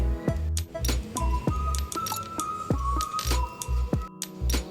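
A fork repeatedly pricks boiled eggs in a kitchen, giving a run of short, close metallic clinks and taps against the egg and the dish, spaced irregularly across the clip with no talking.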